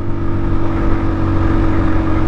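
A Sinnis Terrain 125 motorcycle engine runs steadily in fourth gear at around 6,000 revs, a loud continuous buzzing drone with wind noise, close to the rider.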